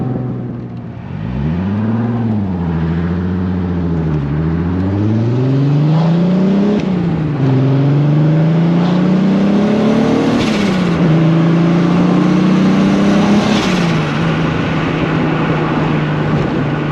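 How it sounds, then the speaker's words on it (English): A VW Corrado VR6 Turbo revs loudly and close, its engine note climbing and falling through several strong pulls, with sharp turbo blow-off valve whooshes between revs at a car gathering. "Love that blow off sound."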